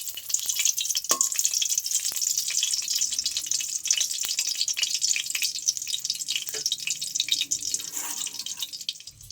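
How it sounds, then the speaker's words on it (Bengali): Four dried red chillies fry in mustard oil in a pan, giving a steady, close, bright sizzle and crackle throughout, with a few faint clinks and no voices. "লঙ্কাটাকে একটু ভেজে নেবো ভালো করে তেলে।"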